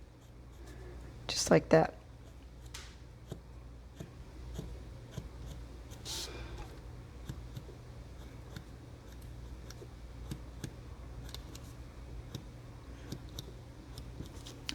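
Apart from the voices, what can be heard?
Stampin' Write marker drawing lines down to edge of paper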